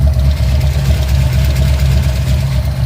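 A car engine running on a freshly swapped Edelbrock 1405 carburetor idles loud and steady by itself, a close, even rumble with no throttle blips and no talking.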